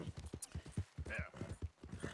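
Horse hooves clip-clop in a steady gallop rhythm while riding in Red Dead Redemption 2, moderately loud, with someone talking over the hoofbeats.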